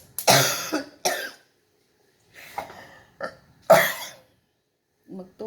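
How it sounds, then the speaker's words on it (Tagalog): A person with a cough that has lingered for about two weeks, heard as a few harsh, close coughing bursts spaced out over several seconds, with some short throaty sounds between them. "Narinig nyo guys yung aking ubo"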